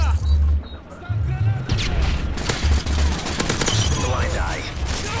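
LMG light machine gun fire in the video game Black Ops, loud sustained bursts of automatic fire with booming low thuds, continuing under someone talking over it.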